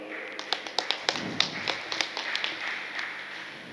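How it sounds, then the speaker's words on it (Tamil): Steady, fairly sparse clapping from an audience at a Tamil astrology conference in Karur, with crisp, rhythmic claps in a reverberant hall. "அனைவரும் ஐயா அவர்களுக்கு கைத்தட்டி உற்சாகப்படுத்துமாறு அன்புடன் கேட்டுக்கொள்கின்றோம்"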